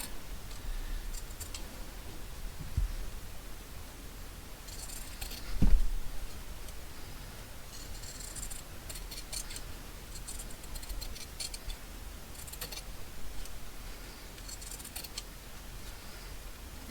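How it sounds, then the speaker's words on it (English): Scissors cutting fabric around a circle for an upcycled freeform garment, giving faint, repeated crisp snips and rustles spread over the span, close but quiet, with one louder thump partway through. "And then we'll cut right around that circle."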